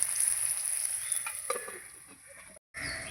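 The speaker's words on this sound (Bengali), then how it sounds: "এই যে আমি পটল আলু ভালো করে ভেজে নিয়েছি" Pointed gourd, potato and onion fry in a covered pan, a steady close sizzle with a few stirring clicks, briefly cut off near the end before the frying resumes.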